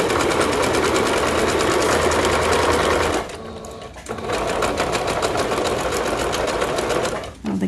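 A sewing machine stitches bias tape onto paper bag bloomers, running loud and close with a fast, even mechanical chatter. It pauses briefly near the middle and then resumes.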